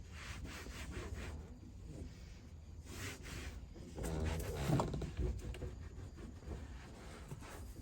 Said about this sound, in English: Buff off this leftover grease and grime.